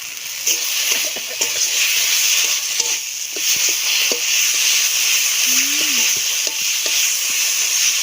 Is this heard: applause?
no